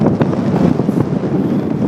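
Strong desert wind buffets the microphone with a loud, steady roar and gusty rumble, no voices.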